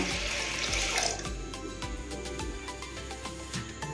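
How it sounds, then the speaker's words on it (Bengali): Water is poured into a pressure cooker holding chana dal, making a close, continuous splashing gush that eases slightly over a few seconds. "এবার প্রেসার কুকারে পরিমাণ মতো জল দিয়ে নিতে হবে। এখানে 2 বাটি জল দিয়ে দিলাম।"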